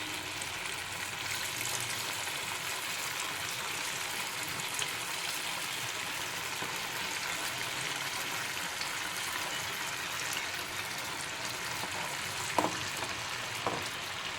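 Vegetable manchurian pieces frying in oil over a medium flame, a steady broadband sizzle holding evenly throughout with a couple of brief sharper crackles near the end, no voices.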